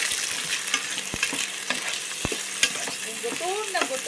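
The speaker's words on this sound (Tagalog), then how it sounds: "Ilagay na natin itong hipon." Shrimp hit a hot frying pan with a loud, steady sizzle, and sharp clicks and scrapes of stirring come through over it close up, with no speech.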